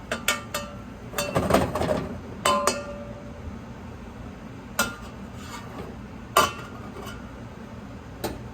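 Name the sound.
mixing beef stew in a pot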